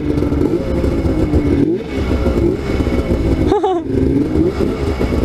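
A snowmobile engine revs loud and close, rising and falling as the throttle opens, with a brief dip and a rattling clatter partway through.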